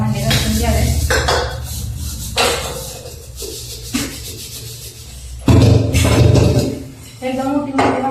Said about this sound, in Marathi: आता हे भांडे घासून घेते.